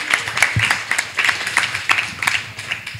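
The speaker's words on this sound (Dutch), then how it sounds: "Nog een applaus," Small audience at a storytelling café in a Rotterdam museum applauds, scattered individual claps forming a light, uneven patter close by, with faint voices beneath.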